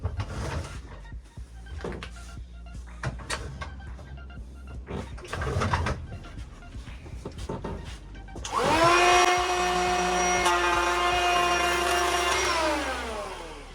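Ryobi electric planer chamfering the edge of a raised piece of wood, starting after quieter handling noises with a loud, steady high whine that holds for about five seconds, then slowly winds down.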